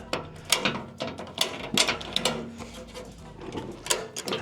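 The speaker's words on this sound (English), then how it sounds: "So if we crank on this ratchet strap" A ratchet strap is cranked during a 2.5-inch leveling spring install on a 2024 Ford F150 Tremor, giving a run of sharp, close mechanical clicks and ratcheting bursts in an uneven rhythm.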